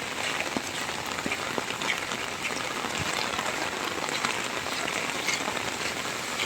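Heavy rain pours down on a rainy-season day in Hemayetpur, Bangladesh, making a dense, steady hiss of falling water and scattered drop patter, constant and close throughout with no voices.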